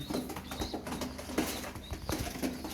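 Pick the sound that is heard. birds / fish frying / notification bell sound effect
birds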